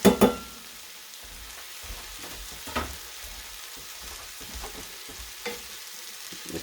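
Bacon frying in a skillet, a soft, even sizzle with a couple of louder knocks at the start and occasional stirring clicks, close and quiet with no voices.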